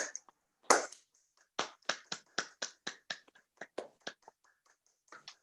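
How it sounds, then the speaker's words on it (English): Hands clapping in a chair yoga class: one sharp loud clap, then a steady, rhythmic run of about a dozen close, crisp claps with short gaps and no talking. "Clap your hands."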